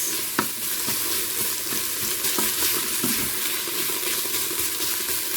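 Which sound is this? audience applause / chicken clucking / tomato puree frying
tomato puree frying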